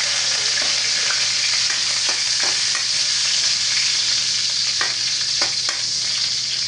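Garlic sizzles and fries steadily in a hot pan, a dense continuous hiss with occasional sharper pops and stirring clicks, close and loud with no talking.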